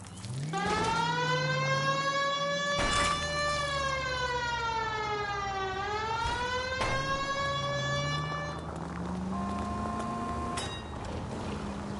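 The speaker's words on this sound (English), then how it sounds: "They've got a siren for a reason," Police car siren in the video game L.A. Noire wails loud and close, its tone sweeping up and down in long cycles, with a couple of sharp bangs and no talking.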